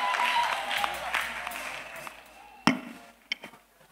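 Church congregation at a testimony service clapping in a moderate wash that fades, followed by a few sharp isolated claps and knocks as the sound dies away.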